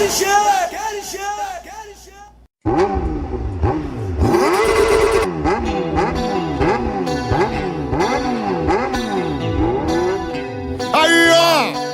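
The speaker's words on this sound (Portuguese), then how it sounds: "Quando você ouve o ronco do motor, fica excitada e sabe que o papai chegou." A motor engine roars and revs in repeated rising and falling sweeps, loud and close, layered with music and voices throughout the stretch.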